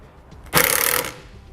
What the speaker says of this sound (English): now we'll mount our connector to the prongs off of our base plate using the self-tapping screws that came with the base plate